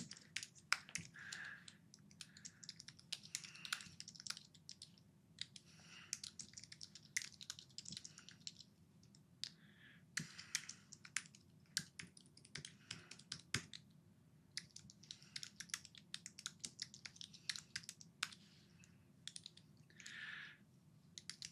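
Uneven bursts of computer keyboard typing, close and fairly quiet, with clusters of key clicks broken by short pauses, as someone enters commands to remove a network switch configuration; no talking.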